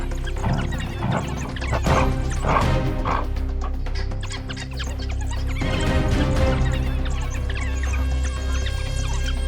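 African wild dogs and hyenas fighting over a carcass in the wild: a steady din of barks, yips and snarls with crashing scuffles, loud and continuous.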